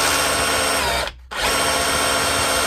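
A Dewalt DCH273 rotary hammer runs loud and close in hammer mode, a harsh sustained buzz that cuts out briefly and then restarts, with no talk.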